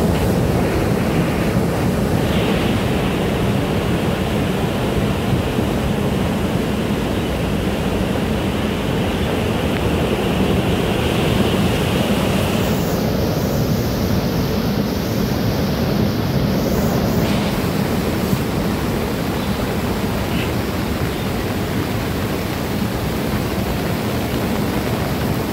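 Floodwater rushing loudly down the Sardu stream during rain near the Miteri bridge, a dense continuous roar close by, with no voices.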